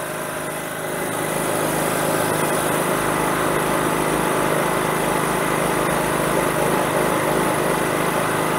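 A tri-fuel generator engine runs after a carburetor conversion, choke fully open. Its steady, buzzing drone rises in level after about a second and then holds constant and fairly loud, with no talking.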